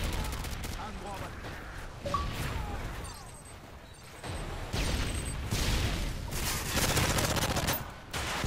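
Gunfire in an online shooter video game, rapid dense bursts and scattered shots running through most of the stretch, with game effects mixed in and a player talking over it.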